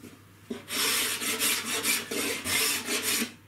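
A hand-held cabinet scraper is drawn over wood in steady back-and-forth strokes, giving a close, loud rasping scrape repeated about eight times in quick rhythm with no talk.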